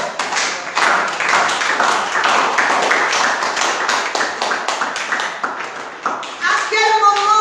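Church congregation clapping in steady rhythmic unison, loud and close, with voices mixed in and a few sung notes near the end.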